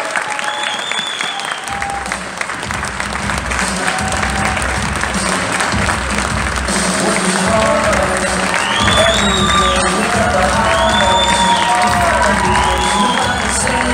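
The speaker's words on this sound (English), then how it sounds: "Let's give a round and applause for the Premier of Ontario" An audience at Northern College applauds and cheers for Ontario Premier Doug Ford, loud sustained clapping with whoops and shouts, whistling tones rising over the din.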